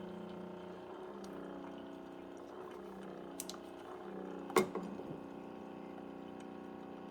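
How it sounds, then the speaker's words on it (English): A Hamilton Beach FlexBrew coffee maker pumps hot water through a K-Cup, giving a steady low hum with a faint trickle, a couple of soft clicks and a brief gurgling burst near the end. "now it's shooting the water through the K-Cup"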